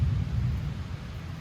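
A low, steady rumble of thunder rolls on throughout, with a soft wash of rain behind it, heard from inside a tent.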